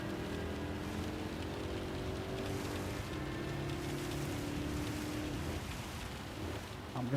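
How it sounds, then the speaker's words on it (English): Steady rain hiss from a wet race in Gran Turismo 7, with the wipers and headlights on, runs continuously under a droning car engine. "Oh, this rain is coming down now."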